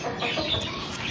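Chickens clucking on a house roof, a steady dense flock chatter with no clear breaks, fairly close and moderately loud against a noisy outdoor background.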